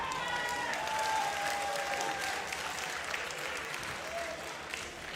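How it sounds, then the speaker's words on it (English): A crowd applauds at a Yu-Gi-Oh! YCS card game tournament in Birmingham, a continuous wash of clapping from many hands that stays steady and fairly distant throughout. "Crowd really showing their support for Dinka here."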